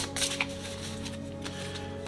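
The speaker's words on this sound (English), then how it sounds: "So we're going to go ahead and shuffle" Tarot cards being shuffled by hand at close range, a steady riffling flutter with a few sharper snaps of card edges, under a low constant background hum, with no talking.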